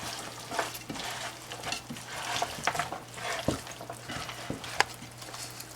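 Turkey pieces with herbs stirred in sizzling butter for confit: soft continuous sizzle under irregular scraping and clicking stirs, close but fairly quiet, with no speech.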